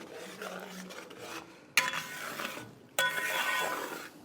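Chicken gravy with ground tomato and whole spices being stirred in a pot, metal spoon scraping and clinking against the sides in irregular bursts, with two sharper knocks of the utensil on the rim; close and moderately quiet.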